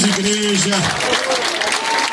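Church congregation at an evangelical crusade in Paracuru applauding throughout, a dense steady clatter of clapping with a voice speaking over the start.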